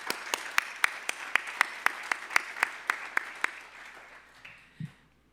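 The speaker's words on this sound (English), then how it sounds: "Let's have another round of applause." Slow, evenly spaced claps at an arts awards ceremony, about a dozen sharp hand claps in a steady rhythm, fairly quiet and roomy, then trailing off into a faint murmur with a brief low bump near the end.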